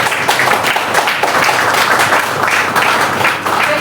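Audience applause fills a women's day celebration hall, a dense continuous wash of clapping that stays steady and loud for several seconds without pause.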